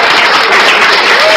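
A short, dense burst of crowd applause, loud and continuous throughout with no pauses.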